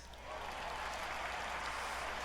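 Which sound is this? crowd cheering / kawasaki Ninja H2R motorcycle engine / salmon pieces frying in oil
crowd cheering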